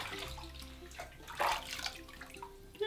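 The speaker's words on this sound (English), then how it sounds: "So I'm just ever so gently cupping the water here and putting it all over himself." Water is gently cupped and poured over a cat during a bath, giving soft, quiet splashes and trickles with a brief brighter splash midway, with no one talking.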